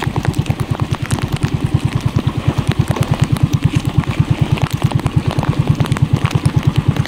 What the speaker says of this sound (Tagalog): hindi natin patayin yung makina kasi mahirapan pag lumamig yan.